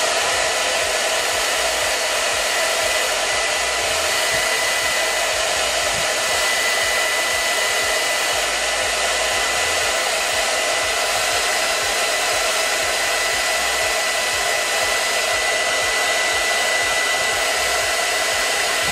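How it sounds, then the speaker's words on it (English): A blow dryer heats the glue along the front lace of a synthetic wig, its loud, steady whirring airflow running without a break and close to the microphone. "And I have my blow dryer here. And I'm just gonna put some heat at the front."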